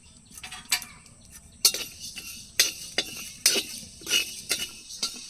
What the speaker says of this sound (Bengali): সবার প্রথমে আমি কড়াইতে দিয়ে দেব গোটা ধনে